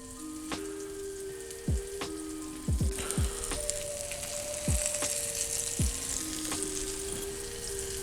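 Whole garlic cloves still in their skins fry in a pan, giving a steady close sizzle with scattered pops and occasional utensil clinks, and no talking.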